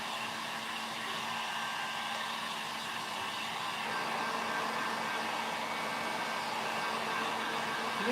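A hair dryer blows a steady, even whir as it dries decoupage paste on Christmas decor, holding a constant drone throughout with no talk.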